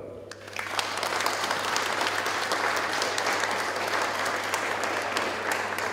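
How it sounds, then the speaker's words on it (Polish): Audience at an art gallery anniversary event breaks into sustained, fairly loud applause that fills the room after a short lead-in and carries on evenly to the end. "Ale brawa dla Roberta."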